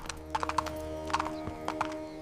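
Hooves of a horse belonging to the king of Amer clip-clop in a steady, close rhythm of several distinct strikes, with no voices over them.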